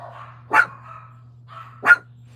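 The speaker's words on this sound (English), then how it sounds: "Sorry about my dog." Dog indoors giving two sharp, loud barks about a second apart, each followed by a softer whine-like tail, with a low steady electrical hum underneath and no talking.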